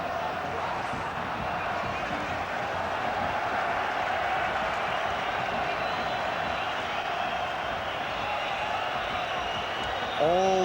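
Large Dutch football crowd at the 1998 World Cup quarter final between Argentina and the Netherlands, a dense sustained roar of cheering and whistling that holds steady throughout, with a short whistle near the end.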